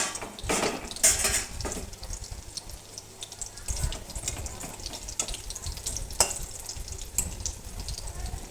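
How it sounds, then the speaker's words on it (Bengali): Thankuni leaf fritters fry in a pan with a continuous moderate sizzle, punctuated by occasional clinks and scrapes of a utensil against the pan. "ছোটো ছোটো করে ভেজে দিচ্ছি।"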